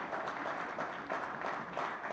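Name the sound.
audience applause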